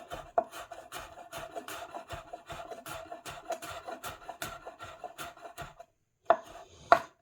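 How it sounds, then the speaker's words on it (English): A carrot being chopped into thin pieces with a knife on a wooden board, a quick, even run of close crisp taps, a short pause, then a couple more louder chops. "If there's anything that looks too big, chop it down a bit more. But the thinner you get this carrot, the better."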